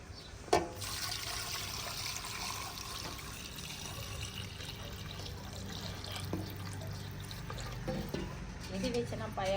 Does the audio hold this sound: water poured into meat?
yes